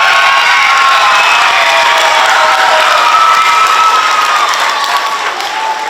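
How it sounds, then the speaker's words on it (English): Loud, sustained applause from a large school crowd, with cheering and whoops mixed in, continuing steadily throughout. "we just want to hear a really big round of applause for Ms. Schaefer."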